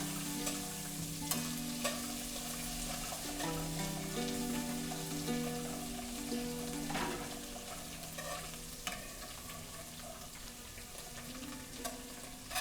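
Fresh ginger roasting in a pan with cardamom for milky tea: a steady close sizzle with occasional stirring clicks, over a constant humming tonal background.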